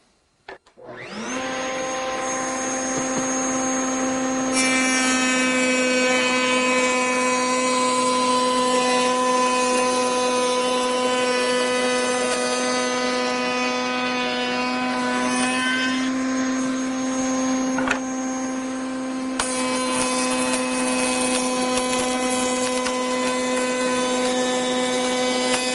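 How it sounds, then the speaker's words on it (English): Router or shaper spinning steadily as pattern cuts are made in glass panel door muntins and mullions, a loud continuous motor whine with strong tonal harmonics that holds for the full span, rising slightly in pitch partway through, no talk over it. "What I'm going to do is I'm going to cut a pattern cut on this side and a pattern cut on that side"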